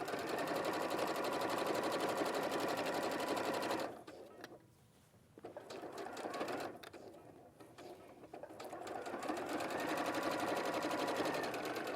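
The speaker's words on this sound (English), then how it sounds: "I'm going to turn my stitch length up to 5. Okay. And just create a basting stitch." A sewing machine runs a long basting stitch at stitch length 5, whirring steadily and close, stopping briefly twice before running on.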